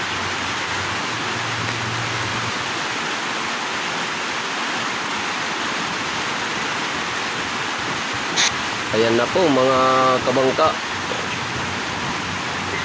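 Rain falls on and around a large wooden fishing boat under construction, a dense steady hiss of drops that fills the scene, with someone speaking briefly in Filipino partway through.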